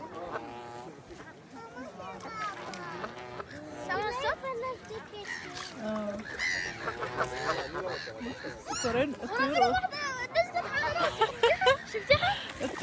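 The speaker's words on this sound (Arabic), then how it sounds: "ايه وادي البط كمان جاي" Honking ducks overlap in a noisy, excited chorus, fighting close by, with people and children talking throughout and the commotion growing louder toward the end.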